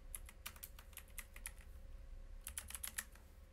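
Quiet, close typing on a computer keyboard gives scattered clicks in two loose clusters with a short gap between them, over a faint steady hum and no speech.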